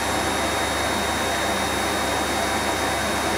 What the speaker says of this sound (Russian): И вот теперь ротор вошел в режим авторотации и вращается с частотой примерно 24 оборота в секунду.